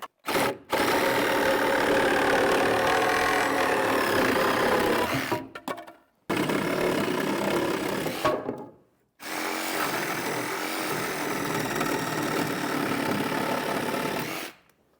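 A Sawzall reciprocating saw cuts through wood at an off-grid post-and-beam barn build in the woods, running loud and close in three long bursts separated by brief pauses, the motor buzzing steadily through each cut.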